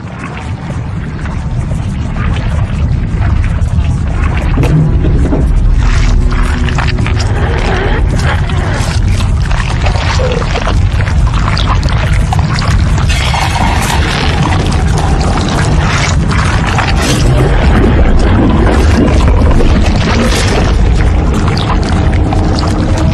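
Water rushing out of a drained pool on the second floor of a horror video game, a loud, continuous roaring gush with deep rumbling that holds steady for over twenty seconds.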